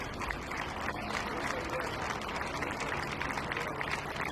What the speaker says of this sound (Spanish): Aplausos también.